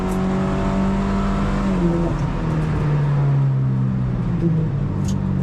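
A Lynk & Co 03+ engine revs hard on a racetrack. Its pitch climbs steadily and then drops at each gearshift, loud and continuous from inside the car.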